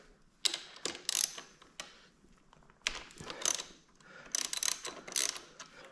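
A ratchet breaks loose and backs out a brake caliper bolt on an SSR125 pit bike, giving bursts of quick close metallic clicking separated by short pauses.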